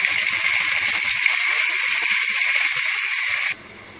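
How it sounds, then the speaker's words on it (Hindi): Onions fry in oil with whole spices for a Lahori murgh cholay, a loud, steady, bright hiss of sizzling that holds evenly and then drops abruptly to a quiet background near the end. "और फिर प्याज भी डाल के साथ में फ्राई कर लेते हैं"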